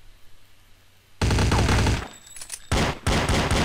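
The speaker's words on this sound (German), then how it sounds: "du kannst mit der Mac auch nicht auf Entfernung schießen" Submachine gun fire in Counter-Strike Condition Zero breaks in after a quiet start, with loud, close bursts of rapid shots separated by a short pause, with no voices.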